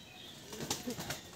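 A male Kalshira pigeon flaps its wings in a brief flurry of soft, quick beats, faint and close, lasting about a second with no talking.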